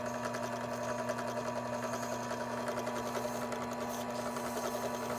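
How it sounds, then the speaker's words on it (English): A brass brush scrubs a Jeep 3.7 L cylinder head during a home rebuild, producing a steady, close buzzing whir with rapid, even scratchy pulses and no voices. "So take a brass brush and really clean it up."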